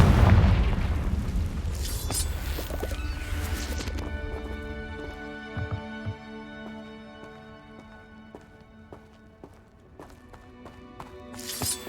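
A Confringo fire spell explodes in Hogwarts Legacy, a loud booming blast at the start with a heavy rumbling tail that fades into ringing tonal game effects, then a second burst near the end.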